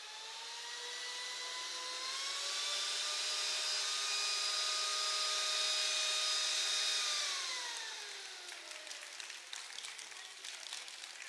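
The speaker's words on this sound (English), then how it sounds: "Our vacuum pump is working." A vacuum pump in a physics show demonstration runs with a loud steady whine, its pitch sliding down as it winds down, leaving softer clattering and applause-like noise.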